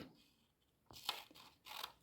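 Scissors cut strips of paper in two or three quiet crisp snips, close but faint, in a calm setting with no talking.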